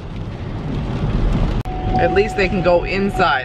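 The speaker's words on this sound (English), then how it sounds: "It is pouring rain." Heavy pouring rain makes a steady, dense rushing wash that fills the background, and a voice then talks over the continuing downpour.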